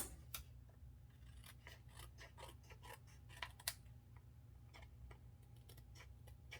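Paper being fussy cut with scissors for a Paper Pumpkin card craft: a steady run of quiet, crisp snips and clicks, close and faint, with no talking.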